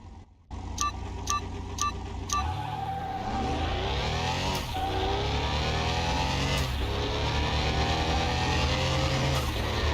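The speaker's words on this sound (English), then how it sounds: "Whoa! Kicked in the turbo boost on that." A turbo V8 Supra races in Car Mechanic Simulator 2021, its engine roaring loudly and continuously, revving and climbing through gear changes after a few short beeps at the start, with no speech.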